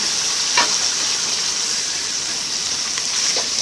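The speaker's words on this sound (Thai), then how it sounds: "นำเส้นมาม่าที่เราลวกแล้วลวกแล้วมาใส่" Blanched Mama instant noodles stir-fried with large shrimp in a hot pan, a steady loud sizzle with a few scraping stirs and clatters breaking through, no voices.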